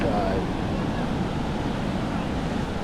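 Ocean surf at low tide on a beach gives a steady broadband wash mixed with wind noise, continuous and fairly close.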